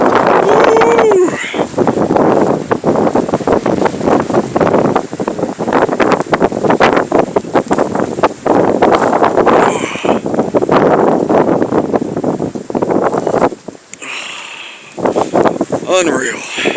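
Blizzard wind in Bangor, Maine roars loudly and continuously against the microphone, gusting with heavy buffeting and brief lulls near the end, while a person exclaims over it.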